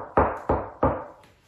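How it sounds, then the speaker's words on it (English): Three firm, evenly spaced knocks on a gate, close and loud, each with a short resonant decay, with no talking. "Right? They're knocking on your gate."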